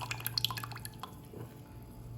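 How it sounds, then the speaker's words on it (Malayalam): Thin ground rice flour batter poured into a vessel, a quiet close series of liquid drips and splashes that taper off, no talk. "അരിപ്പൊടിയെ ഒന്ന് ഒഴിച്ചു കൊടുത്തിട്ടുണ്ട്."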